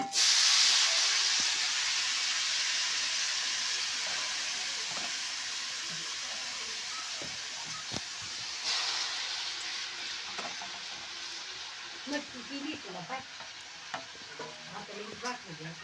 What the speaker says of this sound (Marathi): अशा पद्धतीने कढईमध्ये आता टाकलेली आहे पालक शेपूची भाजी चिरून बारीक